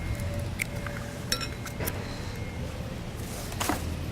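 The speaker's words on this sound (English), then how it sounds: "I'll crack these eggs in there for you." Two eggs cracked against a mixing bowl and dropped onto sugar for a cake's wet ingredients: a few light, close taps and clinks scattered over a quiet room hum, with no talking.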